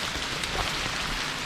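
Steady rain falls on a mountain trail during a descent, a dense unbroken hiss of drops close by with no voices.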